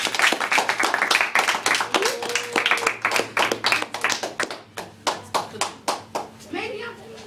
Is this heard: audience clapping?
yes